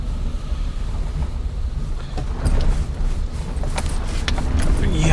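A 24-year-old Maruti 800 grinds uphill on a narrow road, its engine a steady low drone with wind buffeting and rattling clatter over it, growing louder toward the end as the accelerator is pressed.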